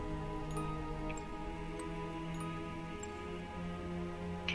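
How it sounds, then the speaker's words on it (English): Steady rain with a constant watery wash underneath and scattered drips ticking on surfaces, fairly quiet and continuous throughout. "you can still hear rushing water as the sewers begin to fill from the night's rain"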